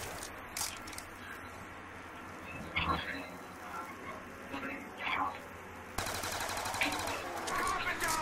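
Gunfire in Call of Duty Black Ops 2 zombies on the Town map, bursts of rapid shots popping at moderate distance, heaviest toward the end, mixed under players chatting.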